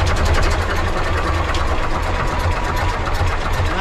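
A Gardner diesel engine on a narrowboat runs steadily after starting, a loud, continuous low rumble with a regular beat and no voices.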